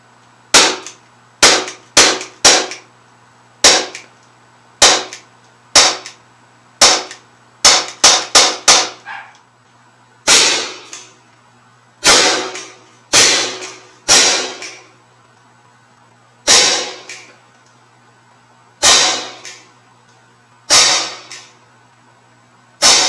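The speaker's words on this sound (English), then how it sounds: "So I'm just gonna dump a mag right now into my trap and see what this looks like." A Sig Sauer P365 .177 caliber air pistol fires about twenty sharp, close cracks into a pellet trap, some in quick bursts and others spaced a second or two apart, with near silence between shots.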